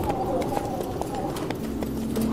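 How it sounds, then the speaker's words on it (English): Horses' hooves clip-clop in a steady, moderately close rhythm along the Peekaboo Loop Trail, a canyon horseback route, with a voice talking over the hoofbeats. "We're traveling by horseback on the Peekaboo Loop Trail"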